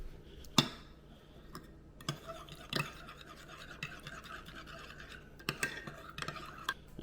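A spoon stirring a lemon drink mixture, with sharp clinks against the glass scattered irregularly among softer scraping and swishing, fairly quiet and close, with no talking.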